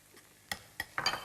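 A whisk beats and scrapes a semi-thick sauce in a bowl, giving three sharp metallic clinks spaced about a quarter second apart followed by a brief rattling stir, close and clear with no talking.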